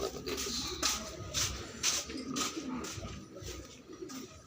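Pigeons in a loft with young squabs, low repeated coos mixed with wing shuffles and light scratching, fairly close and quiet.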